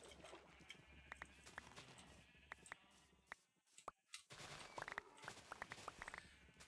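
Sheep bleats and cow lows from Minecraft farm animals overlap in a repeated, fairly faint chorus coming from a nearby room, with blocky footsteps and a brief quiet gap midway.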